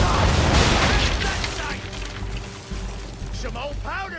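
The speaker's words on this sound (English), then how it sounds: "Fire broadside!" Ship cannons fire a broadside in Assassin's Creed III: a heavy rumbling boom with crashing spray opens the scene and rolls on, fading under a voice that speaks near the end.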